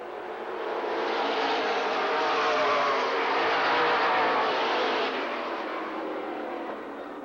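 Mid American stock cars racing at LaCrosse Speedway, a loud sustained engine roar swelling as the pack passes and easing off again, with no voices.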